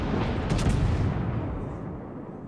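Heavy battleship gunfire in World of Warships, a loud booming salvo with a long rumbling roll that fades over a couple of seconds.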